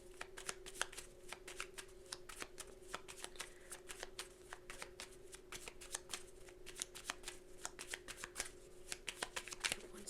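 Tarot cards are shuffled steadily by hand before a pick-a-card reading, a continuous close riffle of rapid, soft slaps and flicks lasting the whole stretch, with no talking over it.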